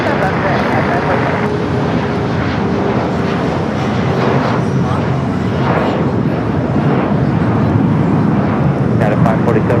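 A United Boeing 777 from Newark lands at LAX, its loud sustained jet roar rumbling steadily throughout while voices talk over it.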